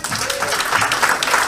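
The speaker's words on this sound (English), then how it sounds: "Can we give him another clap, please?" A lecture audience breaks into dense, steady clapping at close range for a brief burst, with no voice rising above it.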